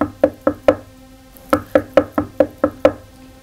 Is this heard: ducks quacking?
no